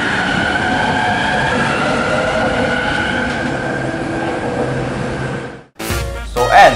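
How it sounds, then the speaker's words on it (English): A four-car LRT light rail train in Malaysia's Klang Valley rumbles close by in a steady, continuous roar. The roar cuts off abruptly near the end and a brief, different burst of noise follows. "Here is the exterior of the BSN sponsored 4-car LRT train."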